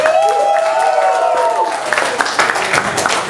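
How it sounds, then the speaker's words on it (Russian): Audience at a Kazan rock concert applauding the supporting bands, a broad crowd clapping wash with some cheering, while a voice speaks over it in the first half. "давайте им похлопаем"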